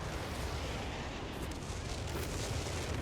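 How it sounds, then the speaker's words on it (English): An artillery salvo pounds the battlefield in Company of Heroes 3 during a 4v4 match on the Winter Line map. It comes as a dense, continuous roar of heavy booms and rumbling blasts, loud and unbroken with no voices. "Your artillery hurts Royal Engineers."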